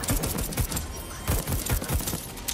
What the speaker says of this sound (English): this nail gun's a piece of shit